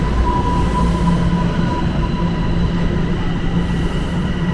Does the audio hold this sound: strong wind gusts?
no